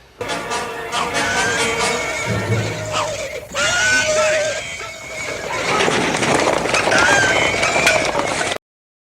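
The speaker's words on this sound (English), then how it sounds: "when horses stampede, part of the camera rig can be seen" Horses stampede, neighing and whinnying loudly over a steady rumble of galloping hooves, with shouting voices mixed into the chaotic din.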